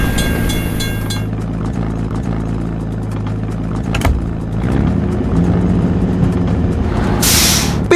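A train rolling past a closed level crossing in a video game, steady rumbling rail noise with a hiss near the end, loud and continuous.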